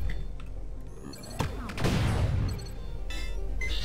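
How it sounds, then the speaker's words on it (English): Enemy robots open fire on the player in the tight corridors of the shooter game Sublevel Zero, with a sharp blast, then a swelling burst of impact and crash noise before it fades into a low hum. "How dare they fire at me in tight corridors?"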